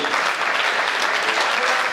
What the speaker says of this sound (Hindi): एक बार सारा सदन हाथ उठाकर तालियां बजाए साहब।